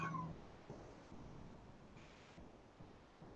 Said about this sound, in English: Sometimes cats make noises like that in other circumstances